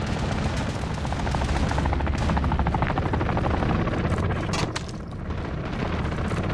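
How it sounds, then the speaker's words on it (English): A chopper gunner helicopter in Call of Duty Modern Warfare thunders loudly with steady rotor chop, mixed with rapid gunfire and booming impacts throughout. "Chopper gunner arriving now."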